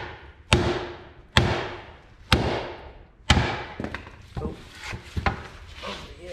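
A dead blow hammer pounding a worn U-joint from a 2012 Ford F-250 clamped in a bench vise: four heavy, ringing metallic thuds spaced about a second apart, then a flurry of lighter clanks and knocks close by.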